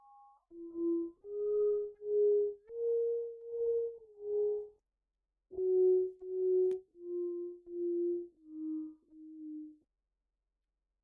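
Sonified infant brainwave response to a sound, heard as a sequence of about twelve pure sine-like tones at slightly shifting pitches, each lasting under a second, with a brief gap midway and no talking.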